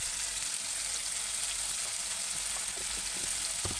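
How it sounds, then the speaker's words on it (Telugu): Tomatoes with a pinch of turmeric sizzle steadily in a hot pan, a dense, even frying hiss heard up close with faint stirring taps toward the end and no voices. "ఇలా వేగిపోయినాయి టమాటాలు"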